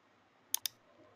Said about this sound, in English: so I'm just going to click OK.